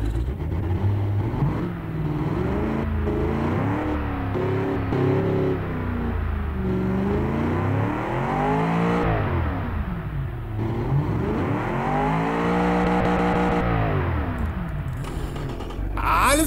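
A 5.7-litre double overhead camshaft V8 car engine in the game Automation revs repeatedly, pitch sweeping up and down in long surges, loud and close with no talking.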